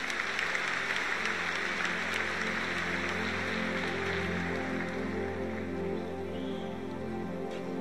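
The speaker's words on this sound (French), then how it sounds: "applaudissements pour ça" Congregation applause at a church conference, a continuous even wash of clapping over a steady sustained keyboard or organ tone, moderately loud and unbroken throughout.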